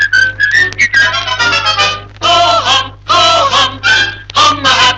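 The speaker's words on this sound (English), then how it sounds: "Pucker up your lips and whistle at the sunlight." A bright, lively whistled melody on a vintage children's 33 RPM record, phrases of rapid trilling notes separated by short breaths, loud and close over a faint steady hum.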